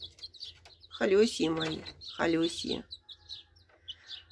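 Small chicks peep in short high chirps, scattered and faint around someone speaking softly to them nearby.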